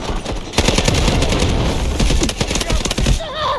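Rapid automatic gunfire in the Delta Force video game, loud dense bursts of shots rattling for about three seconds before cutting off, with brief game sounds afterward.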